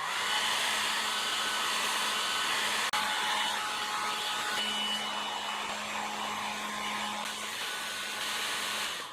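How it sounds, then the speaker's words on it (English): An old hair dryer blows steadily at close range on a leather bicycle saddle, a continuous airy roar with a low motor hum running throughout. "And for this I'm using an old hairdryer."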